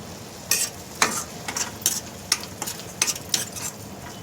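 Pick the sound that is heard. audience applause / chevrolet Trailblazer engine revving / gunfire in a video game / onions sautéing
onions sautéing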